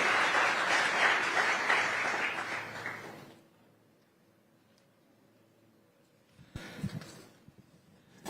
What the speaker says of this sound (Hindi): जोरदार तालियों के साथ अभिनंदन करिए श्री नितिन गडकरी जी का।